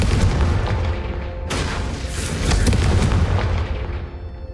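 Loud, close booms as a Confringo fire spell blasts candelabras in the Hogwarts Legacy video game, two heavy explosive bursts with rumbling tails.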